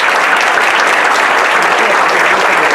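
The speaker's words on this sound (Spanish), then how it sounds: "quisiera pedirles un fuerte aplauso para ellos" A dense, steady round of applause from a forum audience for four transport panelists at the Lima 2019 Pan American Games, loud and continuous for the whole stretch with no voices over it.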